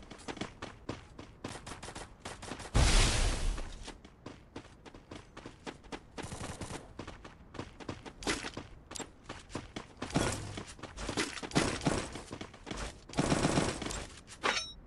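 Rapid SMG fire rattles in repeated bursts during a Free Fire match, with one heavy loud burst early on and further volleys and footsteps following.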